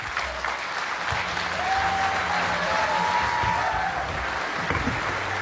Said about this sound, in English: I invite you to stand up and give a round of applause, Brendan Howlin TD.